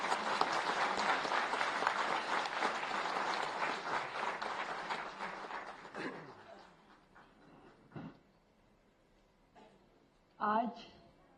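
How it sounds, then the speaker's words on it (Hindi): Loud audience applause at an International Women's Day conclave, with steady clapping for about six seconds that fades into scattered claps, light chuckles and brief speech. "एक बार जोरदार ताली बजा दो।"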